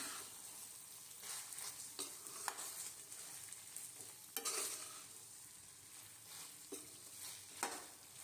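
Chicken jalfrezi is stirred in a pan, with soft, faint scraping strokes at irregular intervals over a low, quiet sizzle and no voices.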